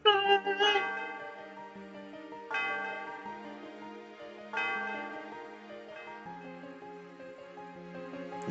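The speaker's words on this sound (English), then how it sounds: "The sound of the bell reverberates through the area." A bell in a Pokémon video game chimes three times as bright, ringing tones that ring out and slowly fade, against a soft electronic game melody.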